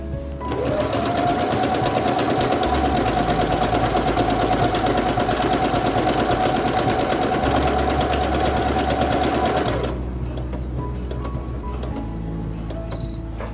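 A Singer Quantum Stylist 9960 sewing machine stitches a programmed sequence with a steady, close, whirring mechanical drone for about ten seconds, then stops abruptly into near quiet.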